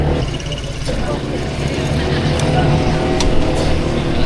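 Yamaha NMAX scooters pass through busy street traffic in Guitnang Bayan, San Mateo, Rizal, a steady close engine drone with passing motors swelling and fading, continuous throughout.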